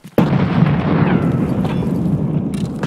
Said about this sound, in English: he's just chucking grenades at me